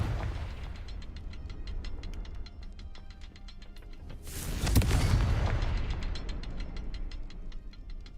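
Confringo fire spell cast in Hogwarts Legacy: a single loud burst with a booming low rumble that swells and fades, set against steady ticking ambience.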